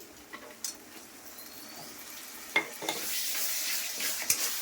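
Tomato and onion paste with spices frying in a pan for a fish-head cabbage ghonto, a quiet sizzle with occasional scrapes and knocks of stirring that grows brighter toward the end.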